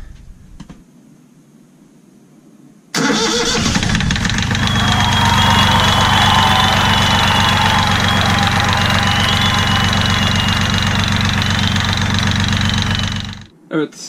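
A sailboat's inboard engine, just fitted with a new belt, cranks and catches abruptly after a quiet pause, then runs at a steady loud idle with a knocking throb and rattle for about ten seconds before cutting off.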